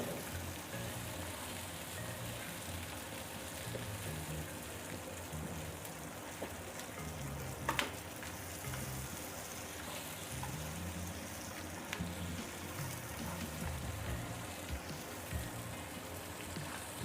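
Onions fry over low flame in a pan for peanut chutney, a faint, steady sizzle with soft crackles continuing evenly and a few small clicks.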